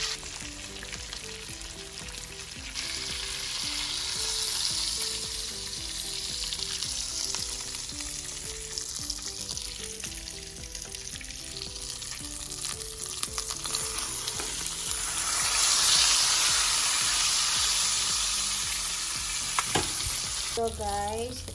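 Salmon fillets frying in butter in a pan for salmon with garlic lemon sauce, giving a continuous, even sizzle and crackle that swells slightly toward the end, close and steady with no talking.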